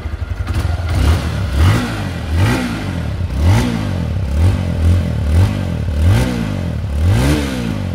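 A 160cc motorcycle engine idles with a steady rumble, then revs repeatedly in short rising bursts, loud and close.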